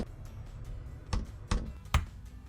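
Code being typed on a laptop keyboard connected to an Arduino display shelf: a few sparse, sharp key clicks at close range against a soft background hum.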